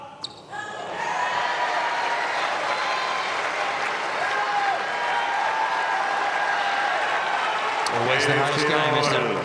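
Tennis crowd at a United Cup 2026 quarterfinal applauding steadily, a broad sustained wash of clapping across the stands, then a sharper burst of cheering and whistles near the end.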